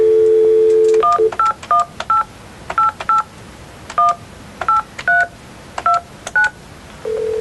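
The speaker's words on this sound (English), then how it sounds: "Then you dial your number" Fax machine telephone number dialed on a keypad: a steady dial tone, then about a dozen short two-tone beeps in an uneven tapping rhythm, close and clear, ending as a tone resumes.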